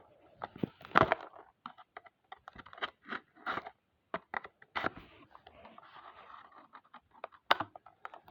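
Scissors snipping and scraping through tape and straps on a cardboard surprise box, a run of irregular crunchy cuts and rustles, close and fairly loud, with no talking.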